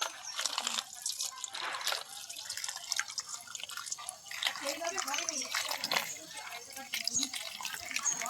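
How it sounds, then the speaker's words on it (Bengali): Water runs and splashes as peeled bottle gourd pieces are washed clean, giving a continuous patter of drips and trickles under someone speaking. "লাউগুলোকে আমি এবারে পরিষ্কার করে ধুয়ে নেবো।"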